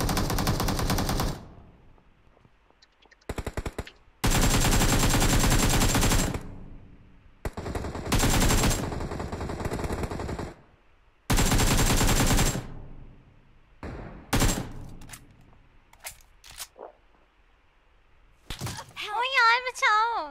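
Automatic weapon fire in PUBG Mobile rattles in loud, dense bursts separated by gaps of near silence, with a few single sharp shots and a brief voice near the end.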